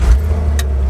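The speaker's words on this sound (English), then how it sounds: "Okay, firing it up." A 1970 Ford Bronco on 35-inch tires fires up in one brief burst: a short starter crank and catch, then a steady low idle rumble close by, with a small metallic jingle near the end.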